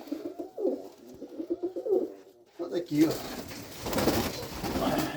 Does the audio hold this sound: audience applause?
no